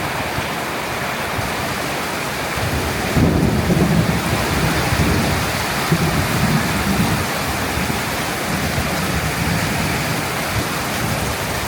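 Heavy tropical rainstorm during the rainy season in Thailand, steady loud rain with a deep rolling rumble of thunder swelling up after a few seconds and lingering in the background.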